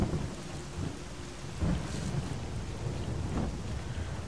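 Steady rain with rolling thunder in a stormy outdoor scene of the game Call of Chernobyl, a loud continuous downpour broken by low rumbles and a couple of sharper thunder cracks, no voices.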